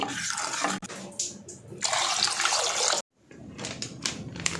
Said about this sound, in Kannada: ಸಾರಿಗೆ ಎಷ್ಟು ನೀರು ಬೇಕೋ ಅಷ್ಟು ನೀರು ಹಾಕ್ತಾಯಿದ್ದೀನಿ.